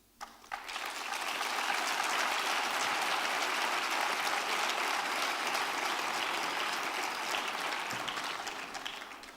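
Sustained applause from an audience at an Almonte celebration of mares, steady dense clapping with no pauses, loud and close.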